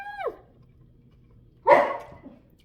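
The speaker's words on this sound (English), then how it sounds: "There's my dog." A dog gives two sharp barks, the first a rising yelp and the second a louder, fuller bark, close by in a quiet kitchen.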